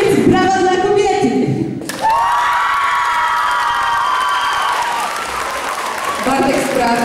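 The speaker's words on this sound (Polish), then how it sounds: "A na koniec brawa dla kobiety." Valentine's concert crowd claps and cheers after a musical phrase cuts off, the applause continuing steadily with higher shouts and whoops and rising again toward the end.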